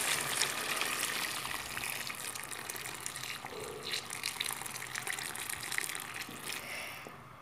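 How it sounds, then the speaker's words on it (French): Hot water gushes steadily into a pot of cauliflower tajine with tomato and other ingredients, a continuous close splashing pour lasting several seconds. "je vais pouvoir verser de l'eau chaude"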